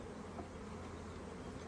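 Honeybees buzz steadily around an open hive during an inspection, a soft continuous droning hum of many insects, faint and even, with no voices.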